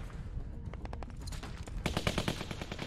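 Assault rifle fire from The Walking Dead video game: rapid bursts of automatic shots crackle in quick succession, getting denser and louder toward the end, with no talking.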